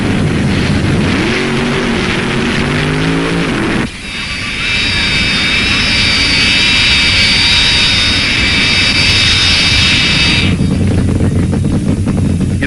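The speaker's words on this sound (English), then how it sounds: "He has that turbine wound and screaming" A US 1 jet dragster's turbine engine at a 1970s drag race, a loud, continuous roar that rises into a piercing high-pitched whine and holds for several seconds before easing back.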